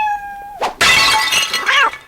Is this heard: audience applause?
no